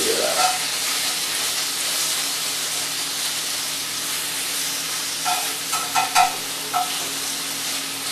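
Bacon sizzling in a pan for carbonara, a steady dense crackle with a few louder spits and scrapes near the end, with no voices.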